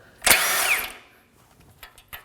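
A power tool with a 22mm socket spins a tie rod nut off the front lower control arm assembly of a 2017-2024 Nissan Armada in one loud, close, short whirring burst, followed by faint metallic clinks.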